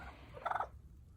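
Broad-breasted white meat turkeys gobbling at a sanctuary, one short rapid warbling gobble rising out of a quiet outdoor background, moderately distant.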